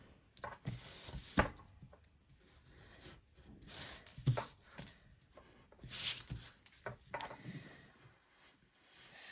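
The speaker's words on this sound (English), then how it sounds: "It's always got to be easier with a cutting knife that's actually sharp." Sharp cutting knife slicing through a paper stencil in a series of quiet, irregular scratchy cuts and scrapes, close up with short pauses between strokes.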